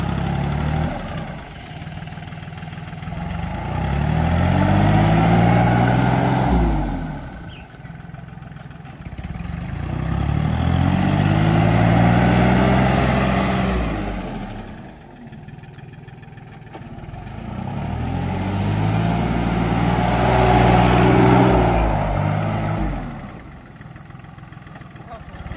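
Tractor engine running steadily, with a part reported broken, its low rumble rising and falling in three long cycles as if revved and eased, loud and close, with voices talking over it.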